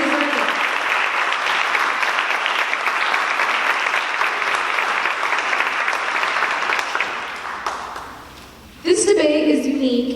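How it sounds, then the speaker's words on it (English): A high school audience at a student leadership candidate debate applauds loudly and steadily for about eight seconds, then the clapping fades out and someone starts speaking. "Can I just have a big round of applause for all of these amazing"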